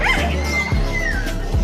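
A German Shorthaired Pointer at a busy pet market gives close, high whining yips and short whimpers in quick succession, loud and near.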